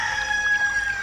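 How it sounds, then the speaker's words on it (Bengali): A rooster crowing, used as a sound effect in a jungle tiger story, one short sustained call heard faint and distant over a hushed outdoor background. "একবার একটা মোরগের ডাক শুনলাম"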